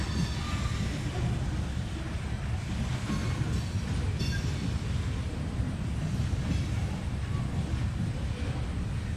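A Union Pacific freight train carrying old Soo Line covered hoppers rolls past, giving a steady, loud low rumble with rail noise and some wind buffeting on the microphone, and no break across the whole stretch.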